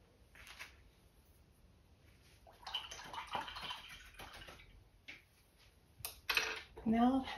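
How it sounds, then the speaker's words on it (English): A rigger brush swishes and clinks in a water pot during acrylic painting, with soft washing sounds through the middle and a sharper rattle near the end, all close and fairly quiet. "taking my rigger brush in the water"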